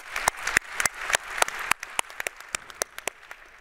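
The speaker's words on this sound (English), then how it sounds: "let's get a hand of applause for that" Sparse, scattered clapping from a small audience at a talk on a resilient, nature-positive future, with individual sharp claps standing out in an uneven rhythm that thins toward the end.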